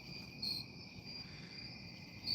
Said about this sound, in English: You got the crickets and night crawlers of the nights.